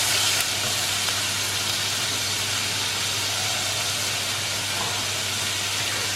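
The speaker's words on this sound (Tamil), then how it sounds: "ஸோ இது கூடயே வந்து ஒரு ஸ்பூன் இஞ்சி பூண்டு பேஸ்ட்டும் போட்டு வதக்க போகிறேன்." Onion and tomato masala sautéing in a pan for masala puri: a continuous, even sizzling hiss with a low steady hum underneath, no talk.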